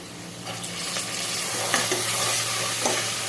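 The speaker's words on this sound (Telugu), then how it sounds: "ఇప్పుడు శనగపప్పు వేసేద్దాం." Chana dal tipped into softened onions with turmeric in a pan, then stirred: a steady close sizzle of frying with scraping spoon strokes against the pan, no voices.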